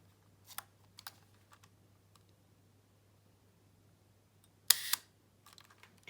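A Canonet rangefinder camera under repair fires its shutter several times at different speeds, a few soft separate clicks followed by one louder snap near the end, against a quiet steady hum.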